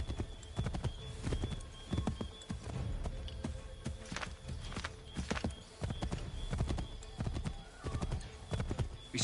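A horse in Assassin's Creed 3 gallops with quick, rhythmic hoof clops that repeat steadily and fairly close, broken by a whinny, over a low game soundscape.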